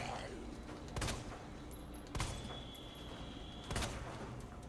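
Gunfire in Resident Evil 2 Remake, three separate loud shots spaced about a second apart over quiet game ambience.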